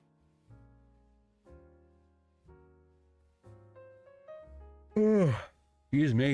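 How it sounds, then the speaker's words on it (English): A long drawn-out human yawn breaks over soft background piano notes, rising into a loud stretched exhale near the end, followed by a second short voiced burst. "I don't know why I yawn with you guys so much"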